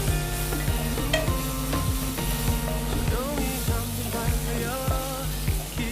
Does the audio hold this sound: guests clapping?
no